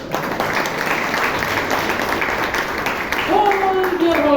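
A Toastmasters club meeting audience applauds in a steady broadband wash of clapping throughout, with a voice briefly speaking over the applause near the end.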